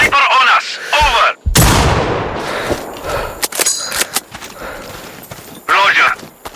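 Sniper gunfire rings out in the video game Sniper Ghost Warrior Contracts 2, a loud sharp blast with a long echoing tail followed by scattered clanks and impacts, with voices speaking at the start and end.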